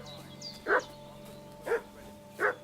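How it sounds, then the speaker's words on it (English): Dog barking in the medieval video game Kingdom Come: Deliverance 2, three short muffled woofs spaced about a second apart, at moderate distance over a low ambient game background. "What's that dog making such a fuss about?"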